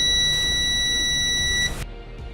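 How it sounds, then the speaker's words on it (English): A multimeter on its continuity setting gives a single steady high-pitched beep, loud and close, lasting about one and a half seconds before cutting off abruptly. "The multimeter will ping like so"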